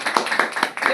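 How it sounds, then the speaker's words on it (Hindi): Audience clapping at an indoor marketing seminar, a short burst of several quick, fairly loud claps in an uneven rhythm. "तो इन सब के लिए एक बार जोरदार तालियां हो जाए।"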